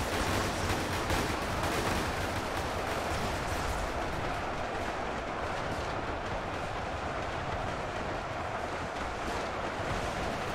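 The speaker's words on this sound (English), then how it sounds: "The thunderous boom, all those bolt actions are going off at the same time" Massed bolt-action rifles firing at once in a WWII-era video game battle simulator, a dense, continuous crackling roar of overlapping shots with a deep rumbling boom underneath. Loud and unbroken, with no talk.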